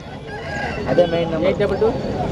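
At a country chicken market a rooster crows, with short bursts of crowing and clucking fowl mixed into background chatter from the busy stalls.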